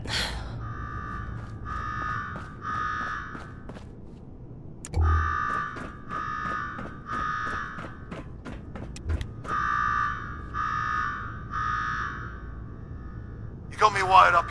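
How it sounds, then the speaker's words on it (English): An alarm blares in Fallout 4's Nuka-World, repeating loud electronic buzzer bursts in a regular on-off rhythm across the whole stretch, with footsteps and brief game noises between the pulses. "Now go shut off that damn alarm."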